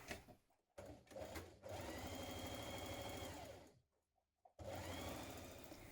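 Domestic sewing machine stitching a dress seam, short bursts then a long steady whirring run, a brief stop and another run, close and clear.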